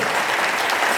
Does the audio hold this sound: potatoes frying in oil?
no